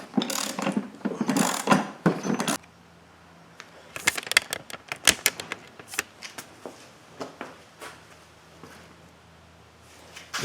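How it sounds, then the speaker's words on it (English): On a 2002 Chevrolet Impala, a hand-turned puller screw draws the power steering pump pulley off, producing bursts of scraping and rapid ratchet-like clicks followed by sparse, sharp mechanical ticks and creaks, close up with no talking. "basically turn the screw down, and it should pull the pulley right off of there"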